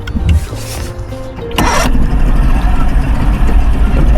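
A 1995 two-stroke carbureted motor catches after a few cranking sputters and settles into a loud, steady running drone, close by, with a voice briefly audible early on.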